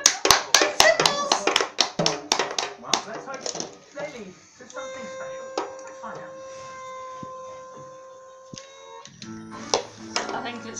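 People at home clap along to a children's TV programme. A quick run of sharp, loud hand claps fills the first two seconds, then sustained tones from the programme and voices follow, with a few more claps near the end.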